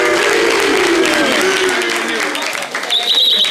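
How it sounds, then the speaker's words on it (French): Loud audience applause rises at a concert with a vocal ensemble, mixed with crowd noise and voices, then thins out as a higher tone enters near the end. "on peut l'applaudir très très fort"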